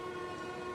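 Runaway train in the video game Marvel's Spider-Man 2, a brief, steady loud horn blast with droning engine rumble, alone without speech.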